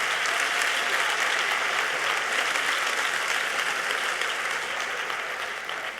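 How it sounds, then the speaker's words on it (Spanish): A packed conference hall audience applauds in a dense, steady roar of clapping that runs throughout and eases slightly toward the end. "me gustaría un aplauso para vosotros de estar hasta aquí hasta este momento"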